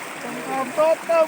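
Water from a village stream rushes steadily with a broad, even flow, and a few brief tonal splashes or faint voices rise above it near the end.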